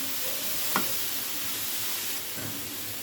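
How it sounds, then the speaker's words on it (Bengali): Bottle gourd peel fries in a pan and gets stirred, giving a soft, continuous sizzle and hiss with a couple of faint scraping touches, fairly quiet and steady. "একটু নাড়া দিব।"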